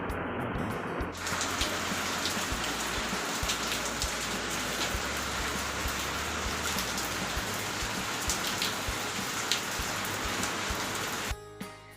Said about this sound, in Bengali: সঙ্গে সঙ্গে বৃষ্টি শুরু হয়ে গেল